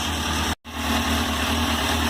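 A 2001 Suzuki GSX-R 600 sport motorcycle engine idles with a steady, close, low throbbing hum, broken by one brief dropout near the start, with no talking.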